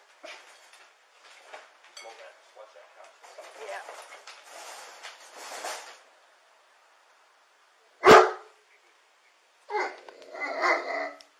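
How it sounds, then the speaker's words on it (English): A dog at a house barks during a police visit. One loud bark bursts out after a stretch of nearby talk, then rougher barking follows a moment later. "Our dog's not happy over here."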